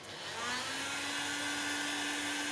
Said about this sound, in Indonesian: akan saya bebani dengan satu buah blower